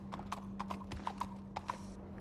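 Horse hooves clip-clopping at a steady trot in the open-world western game Red Dead Redemption 2, with crisp repeated hoof strikes close and clear over a low ambient hum, and a faint whinny possible.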